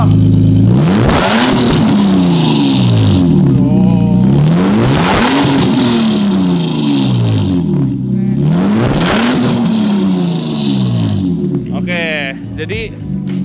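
A BMW E36 323i with a stock engine and a modified exhaust (shortened middle pipe, muffler removed) revs hard several times in loud, close rising-and-falling sweeps, with people talking over it.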